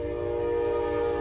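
A Siemens Charger locomotive leading a train sounds its horn at the Summit Avenue grade crossing in Gaithersburg, Maryland, one loud, steady, sustained chord heard close by.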